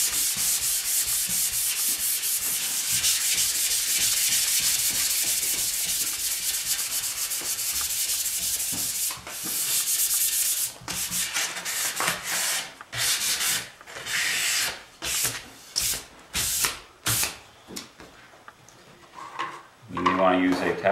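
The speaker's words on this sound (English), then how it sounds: "So I'm using a 320 sandpaper here. I'm going to sand it right down." Wood sanded by hand with 320-grit sandpaper before a water-based stain: a long steady rasping rub, then a run of short separate strokes, close and loud.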